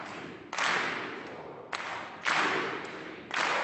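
Choir members in rehearsal clap a rhythm together, producing several sharp, bright claps spaced out in a slow pattern, each followed by a brief decay, with no talking.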